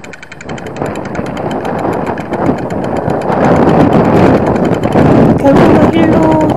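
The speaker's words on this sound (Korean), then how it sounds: "정말 이렇게 바람이 심한지는 몰랐어요" Strong wind gusts roar and buffet the microphone while cycling near the Haeundae LCT building, a loud, broad, rumbling rush that builds steadily, with a voice talking under it.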